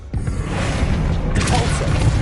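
A Confringo blast spell goes off in Hogwarts Legacy on PS5, a loud booming burst with a fiery whoosh that swells and sustains in a dense, continuous roar of game effects.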